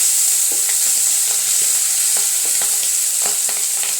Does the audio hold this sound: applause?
no